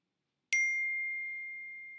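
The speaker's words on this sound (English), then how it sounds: "Got a text message." A single clear ding from a text message notification, sharp at onset and then ringing out with a long, steady fading tone.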